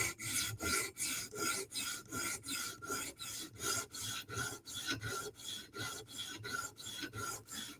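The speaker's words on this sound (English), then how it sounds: "You hear the burr getting hit by a stone." A knife edge with a burr, from a Sebenza or Yojimbo, rasps back and forth on a sharpening stone in a steady, even rhythm of about two strokes per second, close and loud with no talking.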